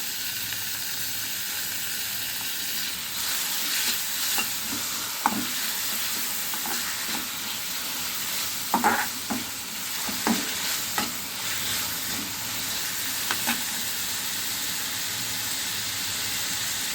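Green chillies and tomato frying in oil in a pan for masala pulao, a steady close sizzle with occasional scraping stirs of a spoon, no voices.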